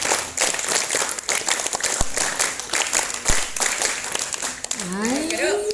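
Students at an archery practice session at an Islamic junior high school clap together in a rhythmic counted pattern, sharp unison claps in quick bursts, loud and close, with scattered talk and a voice in the background.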